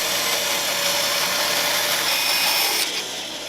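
Wood piece pushed through a saw along the fence in a woodworking shop, a steady loud whine of blade and motor that holds for about three seconds and then drops slightly in level near the end.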